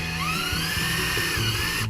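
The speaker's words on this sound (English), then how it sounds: "Drill holes right along here" A power drill whines steadily at high pitch, drilling holes into the metal of a Ford F-250 Super Duty truck, with a few uneven bumps in its tone, loud and close.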